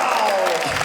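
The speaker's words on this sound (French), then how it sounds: "On peut les applaudir." Audience at a Gilles Bellerose comedy show in Lavaltrie clapping steadily in a dense wash of applause, with crowd noise mixed in.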